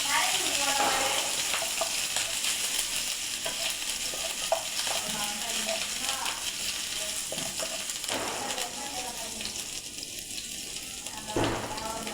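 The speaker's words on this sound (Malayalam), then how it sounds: "ഇഞ്ചിയും പച്ചമുളകും ഇട്ട് കൊടുക്കാം" Ginger and green chilies frying in a pan for wheat upma, giving a steady, close sizzle with scraping stirs that runs the whole time, with no talk over it.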